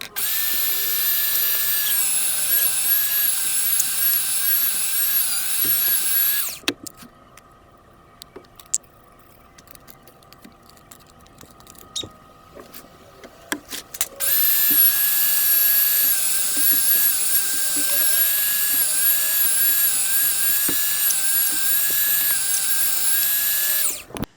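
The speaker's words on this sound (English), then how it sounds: "Back to grinding it all up. Grind a little bit more to get the rest of this full" Electric meat grinder grinding deer meat, a loud steady motor whine running continuously, dropping out for several seconds midway with quieter clatter before starting up again at full strength.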